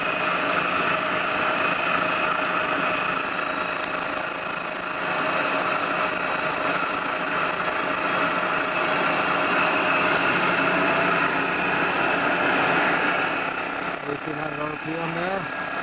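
Machining a Harley-Davidson panhead cylinder head from 1958 or 1960, a cutter trimming the tops of the cooling fins; a steady, loud mechanical whir and vibration runs throughout with a metallic tonal ring and no pauses.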